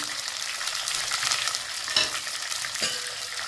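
Lemon pieces, peel still on, fry lightly in a pan with a continuous close sizzle and brief stirring scrapes, heard alone with no voices.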